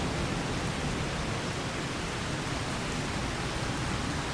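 Steady, even rain in the farming video game Farming Simulator 25 on a 4 Bridges map, a continuous broadband hiss holding at the same level throughout with no talking.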